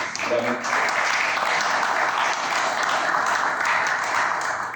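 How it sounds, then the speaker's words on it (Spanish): An audience at a morning forum applauds its panelists, a thick, continuous wash of clapping that holds steady for several seconds, with some voice mixed in. "le damos también un aplauso a nuestros panelistas de esta mañana"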